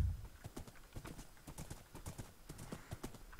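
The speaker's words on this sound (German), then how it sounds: "Nicht schlimmer ist, als mit Pferden durch den Wald zu laufen." Horses walk through a dense forest in Minecraft, their hooves giving a steady run of light clip-clop steps with a brief whinny, fairly quiet and without talk.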